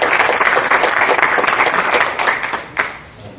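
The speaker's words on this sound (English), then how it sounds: "I would like you to all give yourselves a round of applause for" At a homecoming town hall, an audience breaks into steady, full applause with many hands clapping at once. It tapers off near the end with a few final claps.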